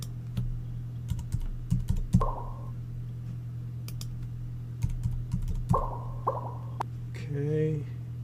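Scattered key clicks from typing a URL on a computer keyboard, arriving in short irregular bursts over a steady electrical hum, with a voice talking in between.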